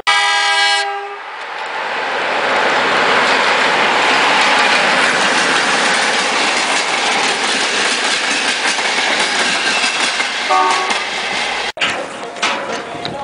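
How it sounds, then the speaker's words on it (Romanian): An Interregio train hauled by electric locomotive 400014 roars past loudly and steadily for many seconds, with a horn sounding at the start and wheel clatter continuing throughout. "Tren Interregio 1750 Suceava Brașov trage locomotivă electrică 400014 de poli Brașov și s-a dus"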